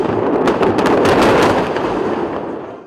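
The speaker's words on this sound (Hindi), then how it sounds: "हूती की मिसाइलें जहाज पर जा गिरती हैं" Missiles strike a ship at sea, producing a loud cluster of rapid blasts and crackling bursts that roll together, then fade into a dying rumble.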